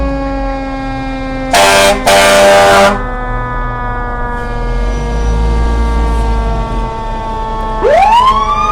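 A fire engine siren from a fire department and rescue truck passing in a Christmas parade, loud and near with rising and falling wails, plus short horn blasts and a rising whoop near the end.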